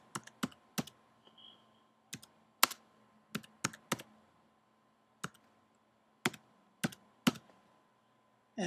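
Keys on a computer keyboard are typed in short, irregular bursts of crisp clicks with brief pauses between, close and fairly quiet in an otherwise still room.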